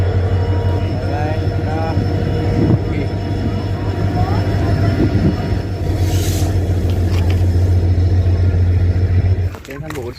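A train in Udalguri, Assam: a loud, steady low rumble and hum that runs for about ten seconds, close by, with a faint voice underneath, then cuts off sharply.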